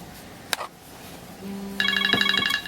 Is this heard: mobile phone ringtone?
yes